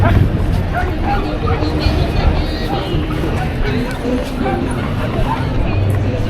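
Dogs bark at a street dog festival in Japan, a few yips and barks rising from a dense outdoor crowd murmur, with passing traffic and people talking nearby.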